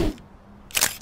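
A cartoon camera gives a single sharp shutter click near the end, after a brief soft sound at the start and a quiet pause.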